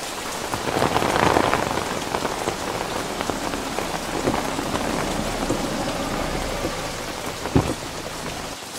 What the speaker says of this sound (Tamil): என்ன மழை.